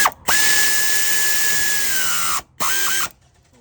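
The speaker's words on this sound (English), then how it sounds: "I'm finna tighten up the catalytic converter bolts" Aircat 1/4 inch drive air ratchet tightening catalytic converter bolts, loud and close: a long sustained pneumatic whir with a high steady tone, a short pause, then a second shorter burst that ends abruptly.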